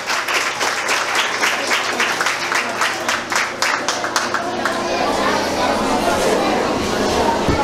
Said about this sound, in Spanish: Vamos a recibirla con un fuerte aplauso.